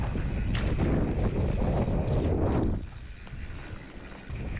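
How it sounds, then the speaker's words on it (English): Heavy wind buffets the microphone on a mountain bike trail ride in Sterling Forest, with loud low rumbling gusts for nearly three seconds, then drops to a quieter steady rush. "It was a very windy day"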